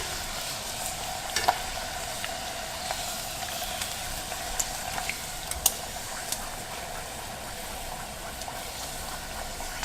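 Chicken skins frying in oil, a steady close sizzle with scattered small pops and crackles throughout, no voices.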